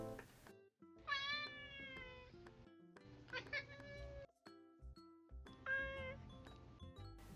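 Three separate cat meows saved in the MeowTalk app's history, each a clear, drawn-out, rising and falling cry with short pauses between them and no voices.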